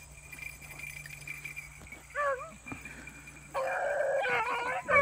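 A six-year-old male Finnish gun dog bays while tracking a rabbit, short rising yelps at mid-distance followed by a louder, sustained stretch of baying over outdoor background noise.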